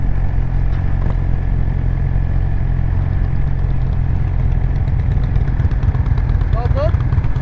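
A motorcycle engine rumbles loud and close in a steady low drone while the rider rolls toward a stop sign before a right turn, with no clear gear changes standing out.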